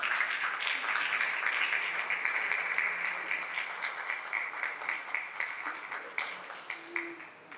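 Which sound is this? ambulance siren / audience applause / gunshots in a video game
audience applause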